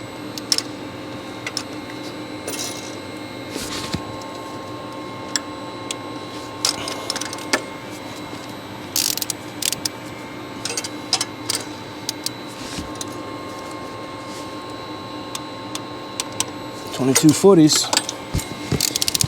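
A ratchet wrench with a 22 mm socket tightens a fuel pump bolt on a diesel engine, giving bursts of quick close clicking strokes separated by pauses, with a denser run of ratcheting near the end.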